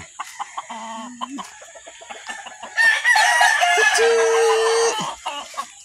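A Golden Boy Sweater fighting cock crows loudly and close by, a long strained call preceded by short clucks and calls, with some background noise.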